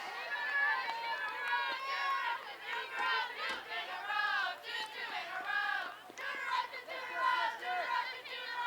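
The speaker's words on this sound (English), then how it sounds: "Like that cheer right there." Spectators at a softball game against Galesburg cheer and shout together in a sustained, fairly close crowd roar with rising and falling voices.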